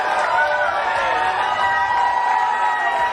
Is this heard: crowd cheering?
yes